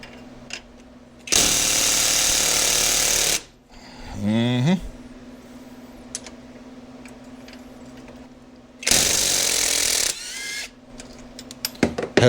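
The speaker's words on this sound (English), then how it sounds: "Well, I feel like I'm going to just use an impact there." A Hercules impact wrench loosens an axle nut on a 2002 Polaris Sportsman 400 ATV during front axle replacement, giving two loud, sustained bursts of about two seconds and one second with quieter gaps of handling noise between.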